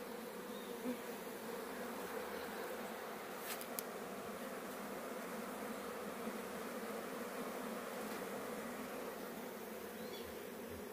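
A small bee swarm settles into a hive box, giving off a steady, dense buzzing hum that stays even and close throughout with no talking.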